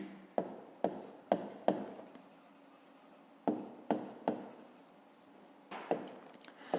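Pen writing numbers by hand on paper during a fifth-grade maths exercise, a string of short scratchy strokes in irregular bursts, close and fairly quiet, with no talking.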